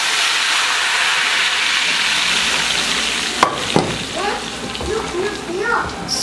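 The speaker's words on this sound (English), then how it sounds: "And now pour my oil into the beans." Hot oil is poured into a pot of Cameroon-style pinto beans, setting off a loud, continuous sizzle and hiss, followed by a few clattering stirs and a voice talking over it.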